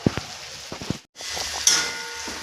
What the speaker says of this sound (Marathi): आता हे बारीक गॅसवरती असे फ्राय होऊ द्यायचे मस्त कडक